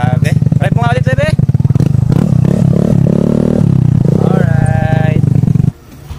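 A Yamaha Mio Gravis 125 scooter with an Akrapovic full carbon full-system exhaust, silencer removed, revs loud and close: a raspy, pulsing engine note climbs and falls through several throttle blips before cutting off abruptly near the end.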